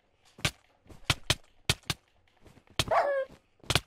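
A dog barks in a Minecraft skywars game, with a series of short, sharp barks alone and one longer whining yelp partway through, ending on another bark.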